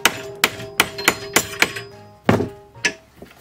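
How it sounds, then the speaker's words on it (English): Eight sharp hammer blows strike a metal bracket held in a vise in a steady rhythm, close and loud, each hit ringing briefly before the next. "And hammer it."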